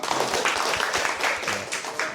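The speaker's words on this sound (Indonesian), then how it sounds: "Tepuk tangan dulu untuk abangnya." An indoor audience at a community health-education contest claps together, a dense continuous patter of applause at moderate loudness for a couple of seconds.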